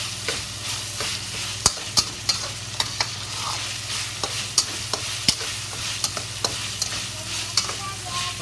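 Chili sauce frying in hot oil for fish-flavored shredded pork, a soft steady sizzle under a low hum, punctuated by sharp, evenly spaced clacks of a utensil stirring the pot.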